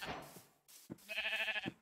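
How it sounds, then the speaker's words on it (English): Sheep bleating in the video game Minecraft, a couple of short wavering bleats heard close and alone, with no talk over them. "We've got 2 sheep."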